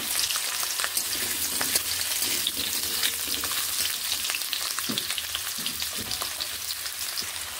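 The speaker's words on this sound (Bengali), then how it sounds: "এখানে আমি আলুগুলোকে ভেজে নেব প্রথমে" Potatoes fry in hot oil in a kadai, giving a steady, close sizzle with crackling spatters and a few faint utensil scrapes throughout, with no talking.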